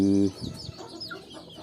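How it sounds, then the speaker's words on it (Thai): Young chickens cluck in short, soft bursts after a brief loud tonal sound at the start, close by with no talk over them. "เบิ่งแต่ไก่"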